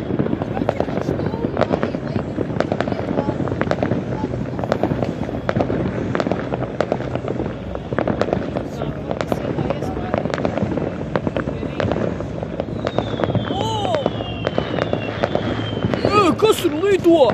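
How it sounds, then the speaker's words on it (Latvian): Fireworks burst at a New Year celebration in a city, a dense run of booms and crackles near and far, with family members talking and exclaiming throughout. "Vēl tālumā salūtu."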